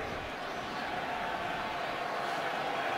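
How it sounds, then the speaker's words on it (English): Northwestern fans at a football stadium send up a broad, steady roar of disapproving boos, a dense, distant crowd wash that holds throughout. "you can hear some boos from the crowd here and the Northwestern faithful, thinking that should have been a fumble"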